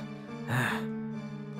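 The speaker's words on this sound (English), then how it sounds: "Something that sounds like a wild dog's salivated breathing reaches my ears." Heavy, wet panting like a wild dog's salivating breath, a single loud gasping rush in the middle over a sustained musical drone, a sound effect from a visual novel game.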